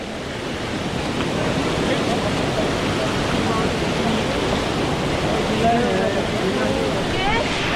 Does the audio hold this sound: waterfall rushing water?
yes